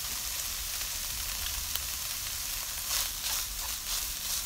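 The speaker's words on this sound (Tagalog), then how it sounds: "Binoil ko na po siya and then shredded ko po. And then saka po natin siya igigisa." Shredded boiled chicken breast, about a quarter kilo, sautés in a hot pan with a steady, close sizzle. Brief louder crackles rise near the end, and no one speaks.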